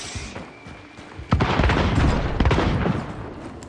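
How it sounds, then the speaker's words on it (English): A grenade detonates in the video game Hunt: Showdown with a sudden loud boom, followed by a rumbling tail and crackling debris that fades gradually. "Tossing a nade."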